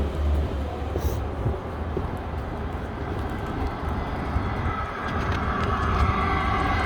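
A Chinese diesel heater runs with a steady, loud, broadband roar of drawn-in intake air, continuous and unchanging with no talk over it.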